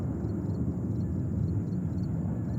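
A Swiss Airbus A330-300 airliner, flight 16 from Zurich, arrives at JFK airport in New York as a steady, distant low engine roar with broadband rumble, continuous and unbroken across the moment.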